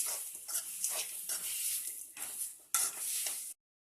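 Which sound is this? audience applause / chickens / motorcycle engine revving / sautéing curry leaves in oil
sautéing curry leaves in oil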